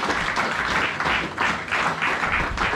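A church congregation claps and applauds in praise, a dense continuous wash of hands with rhythmic swells, fairly close and steady throughout.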